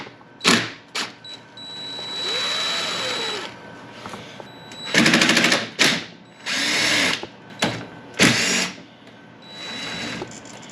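Impact wrench zipping off an engine cam gear bolt during teardown of a blown engine, several short loud bursts of whirring hammering separated by pauses, with faint workshop handling noises between.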